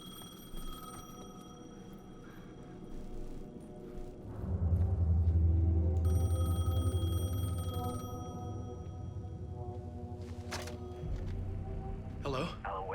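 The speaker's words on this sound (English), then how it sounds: "The payphone was ringing." A payphone rings in the video game Alan Wake II, with faint repeated electronic ring tones over a low, swelling ambient rumble and a few sharp sounds near the end.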